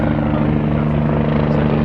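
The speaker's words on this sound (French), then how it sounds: "Putain il y a un hélicoptère" A gendarmerie helicopter passes overhead with a loud, steady rotor thump and whine, continuous and close throughout.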